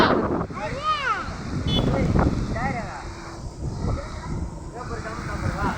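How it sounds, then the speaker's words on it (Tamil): Strong gusty wind roars and buffets the microphone, with birds chirping now and then and faint voices in the background. "காற்று செம்ம காற்று அடிக்குதுங்க"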